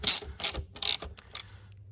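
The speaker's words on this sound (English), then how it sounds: "So just an 8mm spanner here." An 8mm spanner ratcheting on a bolt of a Triumph Street Triple R motorcycle, several quick metallic clicking bursts in an uneven rhythm, close up.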